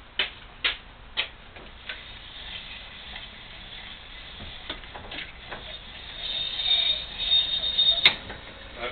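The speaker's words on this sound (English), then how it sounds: "rod off the steering wheel that goes into the box that's actually making a little bit of noise when it turns. It's rubbing." A car's steering rod rubs and ticks as the wheel is turned by hand with the car jacked up and no power steering, giving a few sharp clicks followed by scraping, creaking friction that builds toward the end, close and fairly quiet.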